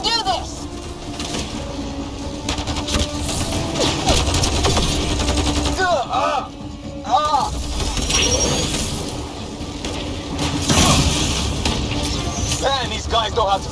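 Rapid automatic gunfire from a sci-fi firefight in Mass Effect Andromeda crackles steadily with bursts and mechanical clatter, while voices talk continuously over the shooting.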